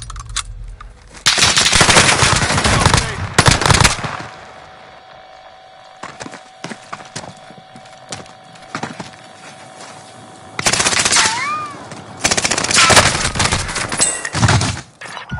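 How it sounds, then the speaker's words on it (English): Heavy automatic gunfire in the Warzone video game, loud sustained bursts in two long stretches separated by a quieter lull with a steady tone, no talking over it. "Taking fire. Shit, under heavy fire here."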